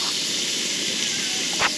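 Bacon wrapped halloumi sticks and burgers sizzling in a frying pan at a family campsite in North Wales, a steady broadband hiss holding throughout with a brief louder crackle near the end.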